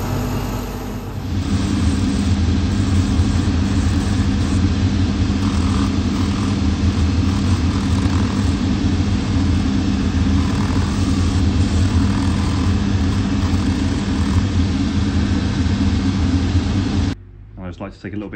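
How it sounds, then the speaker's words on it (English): A shoe repair trimming machine grinds a metal toe plate and sole edge down to shape, a loud steady motor whir running without pause for about fifteen seconds before cutting off abruptly. "So we need to trim that down on the machine so it all matches, it's all the same shape"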